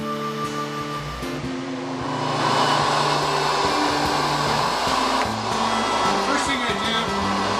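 A woodworking thickness planer shaving down a Honduras mahogany board just over an inch thick roars steadily, swelling louder after a couple of seconds as the board feeds through, with music playing underneath.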